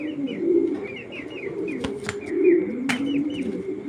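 Racing pigeons coo in low, repeated murmuring rolls nearby, with a few short chirps and taps mixed in.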